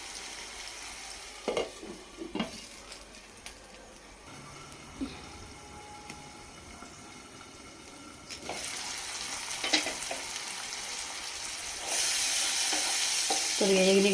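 Onions and green chillies sauté in a pan with a steady sizzle that grows louder and brighter partway through, punctuated by a few knocks and scrapes of the spoon, close by and with no talking.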